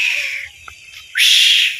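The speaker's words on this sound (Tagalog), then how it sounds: "Daming ibon." Small birds, house sparrows, chirp in a dense high chorus that thins briefly mid-clip and then swells back, loud and close.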